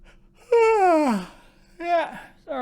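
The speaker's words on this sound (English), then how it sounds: "sorry, compulsive yawn" A man gives one long, drawn-out yawn that slides downward in pitch, then makes two shorter voiced breaths, all close and fairly loud.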